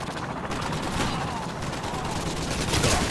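Rapid TAR-21 rifle fire in Modern Warfare 2, a steady loud rattle of automatic shots running through the whole stretch amid game noise, with no talking.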